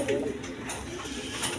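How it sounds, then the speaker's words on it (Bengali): Bombay pigeons cooing close by, a short soft burst of low throaty coos with faint background noise. "দেখেন অরিজিনাল বোম্বাই কবুতর"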